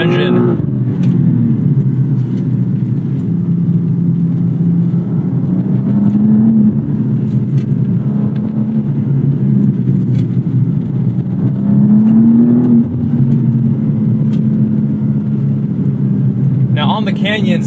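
A turbocharged BMW 2 Series engine pulls steadily, its loud low drone rising in pitch twice as the car accelerates, with a voice talking over the engine throughout.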